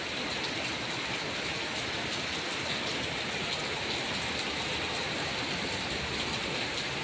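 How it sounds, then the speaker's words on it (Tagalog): A steady downpour of heavy rain in Jeddah, Saudi Arabia, hisses continuously and evenly, nearby, with no talking. "Lakas ng ulan"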